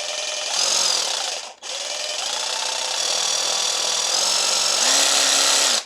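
An Evolution R90JGS cordless jigsaw whines steadily at a high pitch, cuts out for a moment, then runs on with its speed shifting slightly, loud and close with no talk.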